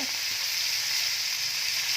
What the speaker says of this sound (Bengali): এই যে কই মাছ ভাজা হচ্ছে